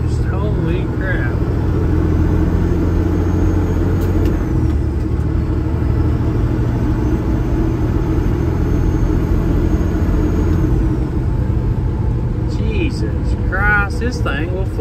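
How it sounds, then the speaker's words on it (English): A Peterbilt 379 truck engine running at 50 pounds of boost gives a loud, steady diesel roar that holds for the whole stretch, with someone talking over it. "This thing will flat out get down. Holy geez, that's 50 pounds of boost."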